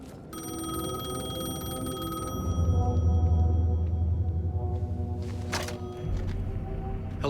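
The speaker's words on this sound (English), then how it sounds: "The payphone was ringing." A payphone rings in the video game Alan Wake 2, a steady electronic bell tone repeating over a low droning game soundtrack, with a deeper swell partway through and no talk.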